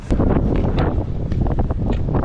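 A strong gust of wind at about 22 knots buffets a sailboat, roaring steadily and loudly across the microphone with broadband rumble and flapping throughout.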